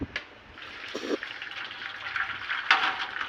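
Soft, continuous wet trickling with a couple of brief splashy bursts as water is wrung out of leafy greens by hand, fairly close.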